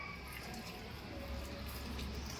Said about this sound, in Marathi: मस्त पाणी टाकत आहे